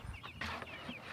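Chickens being raised for meat on a small family homestead cluck in short, close bursts, a few soft calls scattered across a brief moment with steady background noise.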